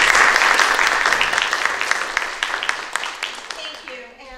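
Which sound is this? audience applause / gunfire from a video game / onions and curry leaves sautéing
audience applause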